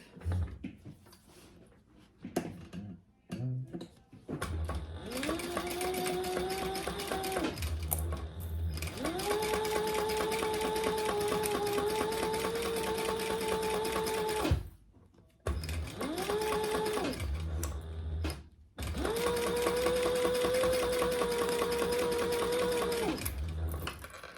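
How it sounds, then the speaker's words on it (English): A sewing machine runs top stitching along a bag at a long stitch length, its steady whirring motor sounding in several sustained bursts with brief pauses between, close and fairly loud. "I am just gonna do a row of top stitching on there"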